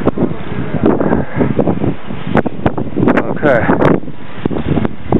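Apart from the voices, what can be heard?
strong wind blowing during a snowstorm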